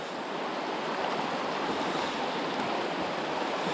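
Heavy rain pours down at a fast-flowing mountain trout stream, a dense, steady hiss of falling water mixed with rushing current, loud and unbroken throughout.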